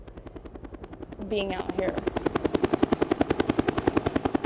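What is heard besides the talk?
helicopters flying overhead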